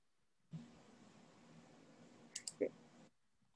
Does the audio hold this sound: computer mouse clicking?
yes